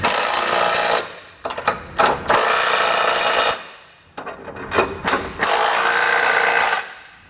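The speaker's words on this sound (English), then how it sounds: "we'll come back with the 3/4 inch socket and snug everything down" A power tool with a 3/4 inch socket snugs trailer hitch bolts on a 2016 Subaru Forester, loud close whirring bursts lasting a second or more, separated by brief pauses and clanks.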